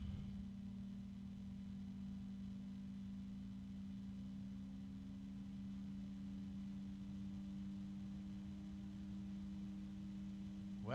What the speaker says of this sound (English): Two fans at the same RPM, and the noise blocker is much quieter.